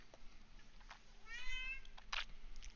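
A cat meows softly a few times, drawn-out and fairly quiet against a still room, with no one talking.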